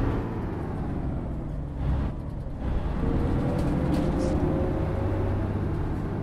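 MAN bus engine with manual gearbox in the OMSI 2 bus simulator, a steady low diesel rumble and drone, loud and continuous with a brief dip as revs change.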